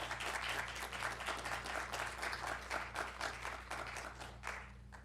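An audience claps continuously for several seconds to welcome an author to the stage at a literary reading. The applause is dense and even with no voices over it.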